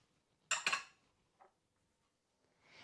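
A tablespoon of coriander seeds tips into a chutney mix with coarse salt. It makes a short, close pattering rattle, then one faint tick follows in an otherwise quiet moment.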